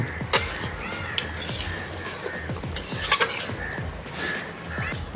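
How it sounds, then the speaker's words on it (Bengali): Fried prawns are stirred into simmering lentil dal in a Bengali home kitchen, giving soft wet stirring with light clinks of a utensil against the pot over a low bubbling, close and without talk. "এবারে ভালো মতো নাড়াচাড়া করে মাছগুলোকে ডালের মধ্যে ডুবিয়ে নিয়ে কিছুক্ষণ ফুটিয়ে নেবো"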